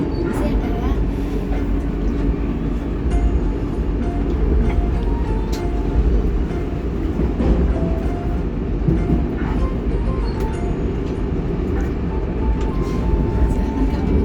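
Continuous low rumble and rattle inside the BIMA Reborn sleeper train while riding toward Gambir station, steady and loud throughout, with voices talking over the running noise.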